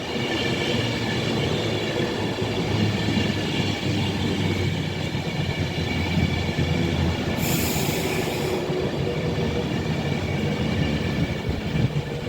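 Avanti West Coast Class 390 Pendolino electric train at Rugby on the West Coast Main Line, a steady loud rumble with wheel squeal and rail noise close by throughout, without talk.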